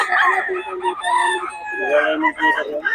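Lemon sweater gamefowl roosters crow loudly and up close, overlapping calls filling the space, with a voice briefly underneath.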